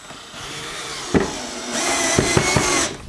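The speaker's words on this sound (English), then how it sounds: "Now I'm just going to throw a couple screws in, back in, just to secure this bad boy in place." A power drill driving screws into wood while building a wooden intubation box, a sustained motor whir with several sharp knocks and clicks as the screw bites, close and fairly loud.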